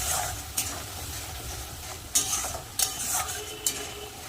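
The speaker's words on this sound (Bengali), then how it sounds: "ভালো করে মশলাটা এখন কষিয়ে নেব" Masala of turmeric, salt and Kashmiri chilli powder sizzles steadily in a pan while a utensil stirs it, with several sharper scraping clinks against the metal standing out over the continuous hiss.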